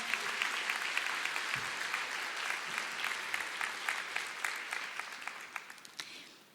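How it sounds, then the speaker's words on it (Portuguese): A church congregation claps for the Lord during a worship service, sustained even applause from many hands that fades out near the end, with faint voices beneath. "Pode aplaudir ao Senhor."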